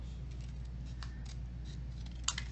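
Scissors snip through cardstock for a handmade farm card, giving a few quiet, crisp cuts close by over a steady low room hum.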